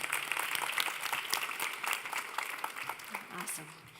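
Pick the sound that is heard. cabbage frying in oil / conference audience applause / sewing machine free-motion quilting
conference audience applause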